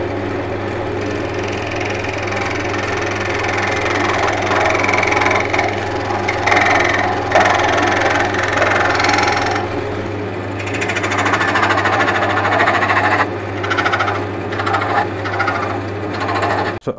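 A wood lathe spins a piece set for off-center turning, giving a steady low rumbling hum with a rhythmic thumping, joined at times by scraping and hissing from cutting or sanding, close and continuous.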